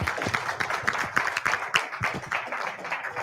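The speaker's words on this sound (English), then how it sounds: "Let's give him a round of applause." A small crowd at an Austin networking social claps to welcome a presenter, with distinct, uneven individual hand claps in a loose, scattered rhythm that stays moderately loud and nearby.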